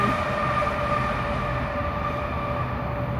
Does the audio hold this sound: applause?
no